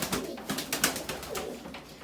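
Gök pigeons coo in a coop, a series of soft, rhythmic coos repeating close by with no talking.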